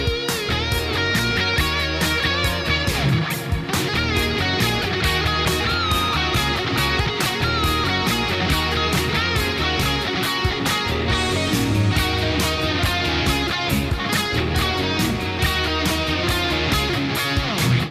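Electric guitar playing the chorus of a song in a full, loud band-style performance that runs continuously and densely for the whole span, with no talking.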